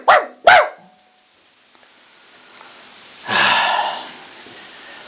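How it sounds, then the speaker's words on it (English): A dog gives two sharp, loud barks in quick succession near the start, followed by quiet and then a breathy, sighing exhale. "I want you to bark 3 times."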